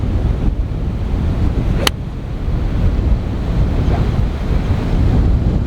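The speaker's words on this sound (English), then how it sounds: "this wind's getting up now at Lake Karrinyup" Strong wind gusting across Lake Karrinyup golf course, a constant loud rumbling roar buffeting the microphone, with one faint brief click partway through.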